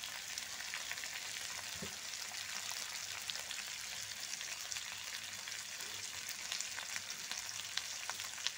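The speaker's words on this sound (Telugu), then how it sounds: "కొద్దిసేపు ఫ్రై అవ్వనిద్దాము, పచ్చివాసన పోయే వరకు ఫ్రై చేస్తే" Potatoes and munakkaya (drumstick) pieces fry steadily in a pan, a faint, even crackling sizzle with occasional light pops and one soft stir, heard alone at low level.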